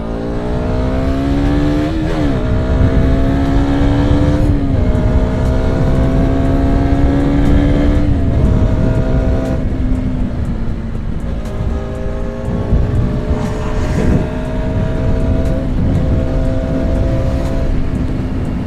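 A KTM Duke 200 BS4 motorcycle engine drones loudly while being ridden, rising in pitch through the gears with short dips at each shift, then holding a steady high hum.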